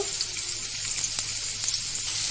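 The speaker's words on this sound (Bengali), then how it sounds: "এরপর কালো সর্ষে আর তেজপাতা ফোড়ন দিয়ে দিলাম।" Black mustard seeds and a bay leaf sizzle in hot oil with a steady, close, bright hiss and faint crackles, no voices.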